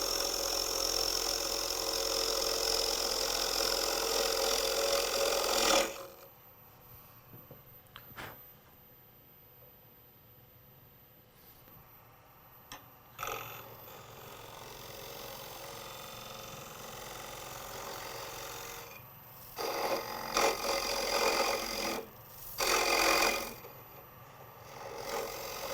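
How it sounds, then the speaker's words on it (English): A scraper cuts into a spinning wood blank on a lathe, making a loud rough scraping roar for the first several seconds, then the lathe hums quietly before shorter bursts of cutting return later. "Each cut I'm simply pushing the scraper in towards the headstock."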